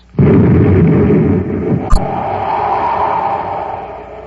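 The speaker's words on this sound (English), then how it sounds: "Someone's firing at us." A loud sci-fi explosion from a vintage Space Patrol radio drama erupts close and heavy, rumbles and slowly fades, broken by one sharp crack of weapon fire partway through.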